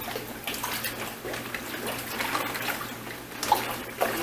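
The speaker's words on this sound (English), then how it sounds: "I'm going to start dragging it across the bottom of the measuring tank." A bag is dragged through water across the bottom of a koi measuring tank. Continuous close sloshing and trickling swirl throughout, with a couple of slightly sharper splashes near the end and no talking.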